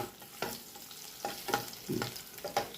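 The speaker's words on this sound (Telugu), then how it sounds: "అందులోని ముందు వెల్లుల్లిపాయలు, సన్నగా తరిగిన వెల్లుల్లిపాయలు వేసుకొని వేయించుకోవాలి." Finely chopped garlic frying in a pan over high heat, a steady close sizzle broken by repeated scraping stirs of a utensil, with no voices.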